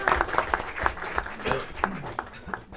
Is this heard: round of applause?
yes